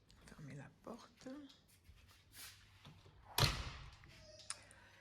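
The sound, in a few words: door being closed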